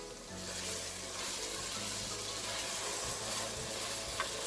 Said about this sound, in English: now the tomatoes and onions are kind of frying and they've broken down